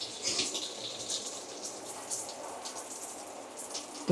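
Water runs from an RV tap while air is purged from the line, a soft, uneven hiss and splutter that continues steadily at low volume, with no talk.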